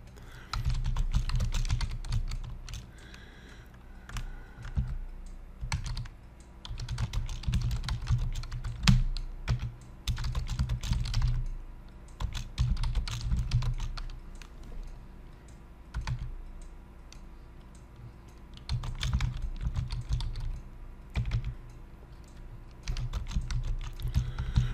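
Instructions being typed on a computer keyboard, rapid clattering keystrokes in bursts separated by short pauses, close and fairly quiet, no voices.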